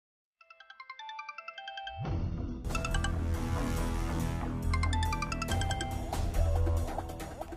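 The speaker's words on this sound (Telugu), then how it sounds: "చలపతి గారు ఫోన్ చేస్తున్నారేంటి?" A phone ringtone for an incoming call, heard in a Telugu TV serial scene. It starts as a clear, close electronic melody, then fuller music joins it and plays on steadily and loudly for several seconds. Nobody speaks over it.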